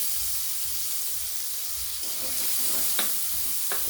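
Green chillies frying in a pan for a mixed vegetable dish, with ground cumin, coriander and pepper paste, give a steady close sizzle throughout. A few sharp scraping stirs come near the end, with no talking.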